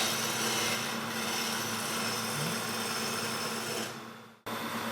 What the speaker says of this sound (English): you can take the gouge, turn it on its side, and this is a shear scrape